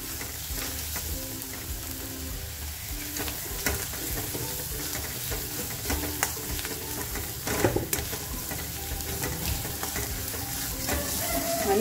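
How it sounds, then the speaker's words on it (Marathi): Mutton masala frying in a pan, a sustained close sizzle with crackling pops and repeated scraping stir strokes over several seconds. "चांगलं फ्राय करून घ्यायचं आपल्याला."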